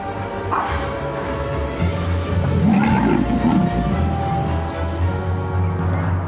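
In African savanna, a lioness growls in rage at an intruding lion, giving a continuous, rough low rumble that swells and eases over several seconds.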